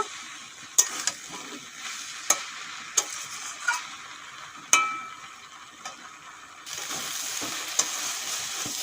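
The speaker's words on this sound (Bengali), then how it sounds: "সয়াবিন দিয়ে দু মিনিটের মতো কষে নিলাম" Soybeans stir-fry with chickpea curry in a pan under a constant sizzle, with regular sharp spoon scrapes and taps against the pan, and the frying grows louder toward the end.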